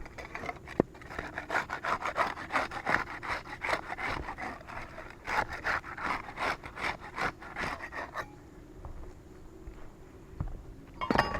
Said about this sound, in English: We'll get started with the putty knife. We'll use that to unseal shingle 7 and 8,